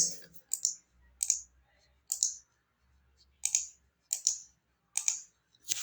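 Keys on a computer keyboard being typed to enter a terminal command, heard as sparse, crisp clicks in small bursts with short pauses between, close and clear with no talk.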